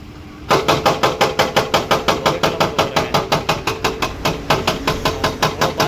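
A Tata hydraulic rock breaker hammering rocks at a roadside work site, loud rapid pounding blows of about five per second that start abruptly and continue evenly, close by.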